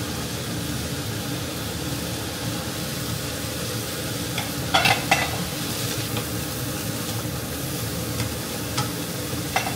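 Onion and carrot stir-fried in a pan give a steady, close sizzle for the whole stretch, with a few louder scrapes and clatters of the utensil partway through and no talking.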